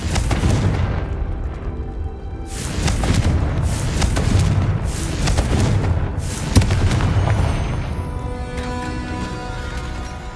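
A Confringo blasting spell in the game Hogwarts Legacy sets off booming explosive blasts that repeat over a rumbling layer of sound, heavy and loud, with a sharp crack near the middle.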